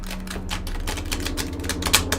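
Rapid, crisp clicking and flapping as a new, stiff deck of playing cards is riffled, a dense run of taps close to the microphone.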